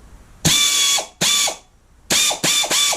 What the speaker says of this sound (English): there's the air version of that,